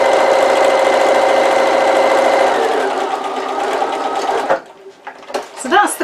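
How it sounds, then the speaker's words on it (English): Domestic sewing machine stitching down the sides of fabric pieces for a sewn gift box, running steadily and loudly for a few seconds before stopping, followed by a short bit of talk. "For each piece we've stitched down those two sides there."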